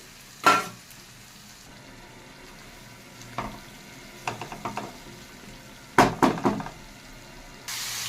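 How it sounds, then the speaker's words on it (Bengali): Katla fish pieces sautéing in a pan with lemon juice for a fish curry, a low background sizzle broken by several sharp bursts of stirring and scraping in two clusters. "এবার মাছগুলো দিয়েও আমি কষিয়ে নেবো ভালো করে"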